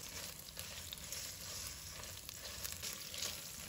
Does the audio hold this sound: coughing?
no